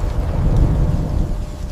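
A jungle thunderstorm with heavy rain gives a loud, deep, continuous rumble under a dense wash of rainfall, close and sustained, with no voices.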